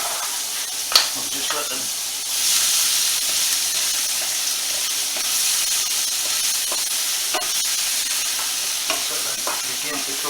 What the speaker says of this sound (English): I'm just going to take the temperature down slightly and put the shallots in.